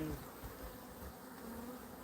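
A swarm of bees buzzes in a steady, continuous drone close by, fairly quiet overall, with no talking.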